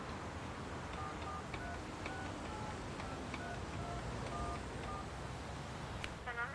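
An old-fashioned phone is dialed in the video game 13 Sentinels: Aegis Rim, a series of short tones sounding one after another over a steady, hissy background.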